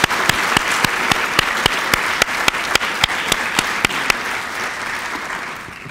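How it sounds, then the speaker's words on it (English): Audience applause fills a convention awards dinner hall, a steady dense wash of clapping with sharp individual claps standing out, sustained at even loudness throughout with no talking. "And let's just have another round of applause for Abd Al-Rahman."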